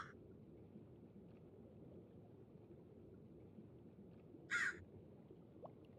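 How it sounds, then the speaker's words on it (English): Crows in the video game RAD2, a single short burst of cawing standing out over a steady low ambient hum, heard once and briefly near the end. "Your birds are very noisy."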